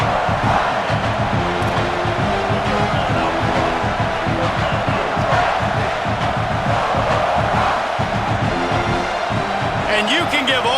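Football stadium crowd at a college game between South Carolina and Texas A&M roaring loudly and continuously, a dense wall of yelling and cheering with scattered shouts.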